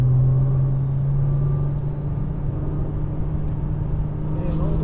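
Nissan GT-R on the NOLA Motorsports race track, a steady loud engine drone with a strong low tone that holds through the whole stretch, rumbling close up as the car accelerates.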